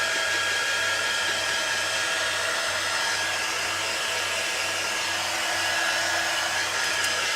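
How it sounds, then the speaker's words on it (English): A hair dryer blows steadily on paint on graffiti paper, a loud, constant close-up whoosh with a low hum that runs the whole time, with no voices over it. "now I'm gonna dry this a little bit because I don't want to make mud here"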